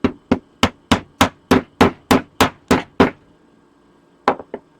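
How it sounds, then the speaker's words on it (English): A hammer strikes a 3D printed Springtrap joint: about a dozen sharp, loud, evenly spaced blows with a short ring, a pause, then two more quicker hits. "then we're going to hit it with the hammer again"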